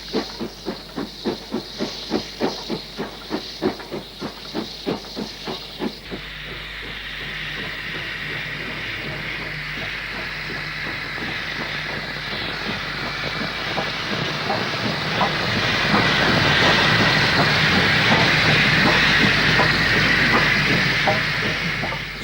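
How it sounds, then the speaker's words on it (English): Steam locomotive 75037, a double-chimney engine, moves over the points at Tebay number 2 junction to bank a northbound freight on Shap in 1990. Loud regular exhaust beats come first, then a steady roaring hiss of steam builds and swells close by. "75037 moves over the points at Tebay number 2 junction box to bank the freight northwards"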